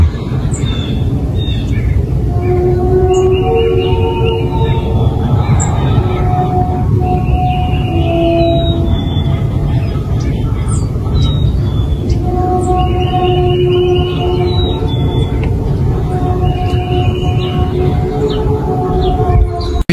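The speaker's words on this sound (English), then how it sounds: "Have you guys ever heard of the trumpets in the sky?" Eerie, drawn-out tonal blasts resembling distant horns or trumpets in the sky over Ellsworth, Ohio, overlap and waver above a low rumbling background, repeating across the stretch.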